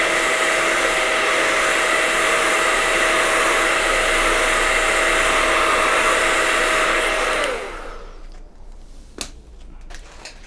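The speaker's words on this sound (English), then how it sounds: "hairdryer, or if you've got a hot air gun, use that too" Hair dryer blowing hot air onto knife sharpening compound: a loud, steady whooshing roar with a constant motor whine, then it switches off and winds down, leaving a few faint clicks.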